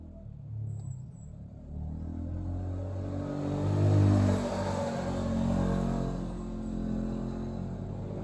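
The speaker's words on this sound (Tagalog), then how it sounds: "Daming mga motorsiklo na dumadaan" Motorcycles pass along the road outside, their engines a rumbling drone that swells to a peak as they go by and then eases off, heard from a little distance without talking.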